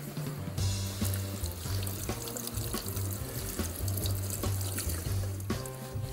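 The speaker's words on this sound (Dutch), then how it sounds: "We gaan ons visjes even onder koud water lekker fris spoelen." Running cold tap water splashes steadily into a sink, with gurgles and shifting trickles as pouting fish are rinsed under the stream; no talking.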